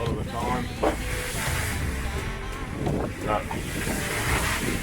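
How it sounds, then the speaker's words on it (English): Strong, gusty wind buffeting a Leopard sailing catamaran on passage from New Zealand to Fiji, a continuous roaring hiss with surging gusts and splashing water throughout. "This morning brings all blustery conditions."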